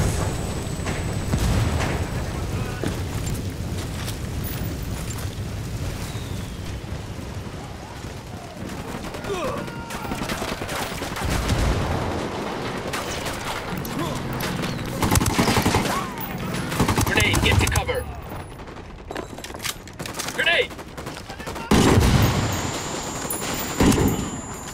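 Sustained gunfire from a firefight in the video game Ghost Recon Wildlands, with dense bursts and booming shots rolling through most of the stretch, loud and continuous, while voices speak intermittently over the shooting.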